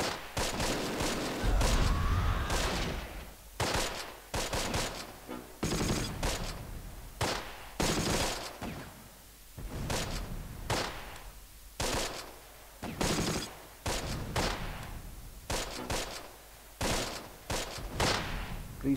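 Battle in the war strategy game Close Combat, with dense rifle and machine-gun fusillades and heavy booming shots like cannon fire, arriving in repeated loud bursts separated by brief lulls throughout.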